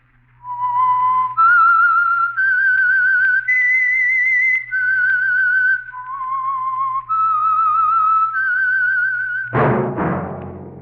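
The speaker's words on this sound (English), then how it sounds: "That whistle is your signal for the Signal Oil Program, The Whistler." A long whistled melody opens the Signal Oil radio program The Whistler: clear, loud sustained notes stepping up and down in pitch, then ending abruptly in a sudden bright orchestral burst.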